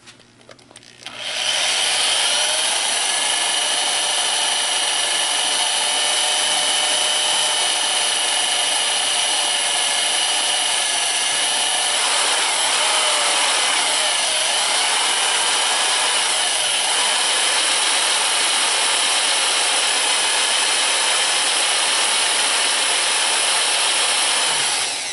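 A power drill bores into cracked cast iron with a steady, close, high-pitched whine that holds for about twenty-four seconds. The pitch wavers slightly midway as the bit goes deeper, and no one speaks.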